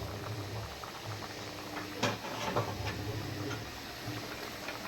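Steady bubbling and soft popping of pea rice boiling in a covered pot, with a few faint clicks and ticks over a continuous low simmer.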